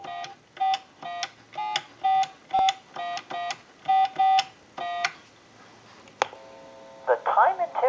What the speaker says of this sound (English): we'll call a time and temp number